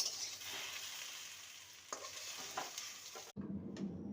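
Okra frying in a pan and being stirred, loud steady sizzling with scraping stirs throughout, then a sudden cut to a quieter, lower hiss near the end.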